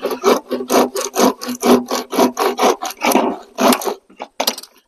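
A Gerber Gator 3 hand saw cuts through wood in a quick, steady back-and-forth rhythm of rasping strokes, close and loud, slowing near the end.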